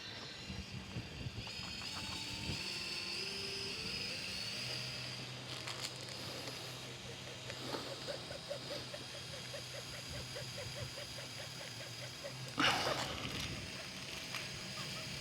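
An electric fishing reel motor, the AtlantiX 12000 or KrakenX, whirs steadily while spooling line, its pitch climbing as the throttle is increased. The hum is continuous and moderately quiet, with occasional handling knocks and no talking.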